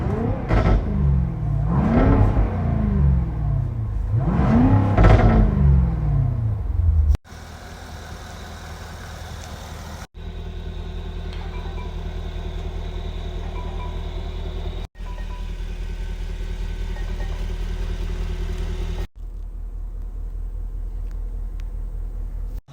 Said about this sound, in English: this is the Jaguar F-Type R